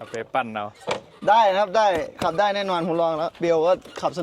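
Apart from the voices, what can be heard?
None of the usual background noises is heard.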